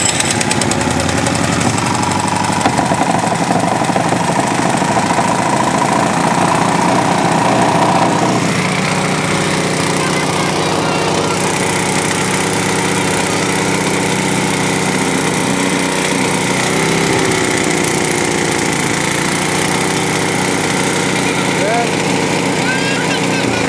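An engine-powered auger runs loud and steady throughout, a continuous small-engine drone that stays close and unbroken, with voices faintly beneath it.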